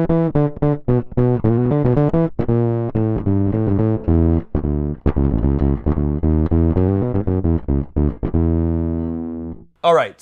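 Bass line played through a MUFX octave divider on its ringer setting, soloed, giving a harsh, buzzy, synth-like tone across a run of quick, choppy notes, loud and alone.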